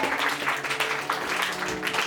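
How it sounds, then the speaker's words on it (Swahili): A church congregation claps steadily at a moderate distance, a soft, even patter of many hands with no break. "Pigia Yesu makofi mengi zaidi"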